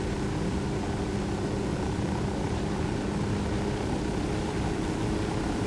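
A helicopter flies in the video game Ghost Recon Wildlands, a dense, constant rotor and engine roar that fills the whole clip without a break, loud and close, with no talk over it.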